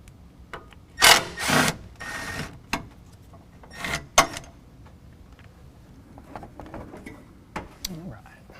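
Ratchet wrench with a 10 mm socket backing out bumper bracket bolts on a 2019 GMC Sierra 1500, a few short clicking bursts separated by quiet pauses, close and fairly faint.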